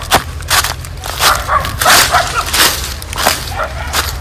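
A dog barks several times in short sharp bursts from a house, fairly close, with background noise between the barks.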